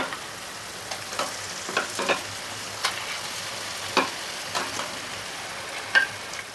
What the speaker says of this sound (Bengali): চিকেনটা আমরা 2 ঘন্টা ম্যারিনেট করে রেখেছিলাম, এরপরে আমরা চিকেনটা অ্যাড করে দেবো।